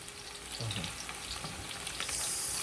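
Spinach frying in a pan, a steady low sizzle with faint stirring movements, close and fairly quiet.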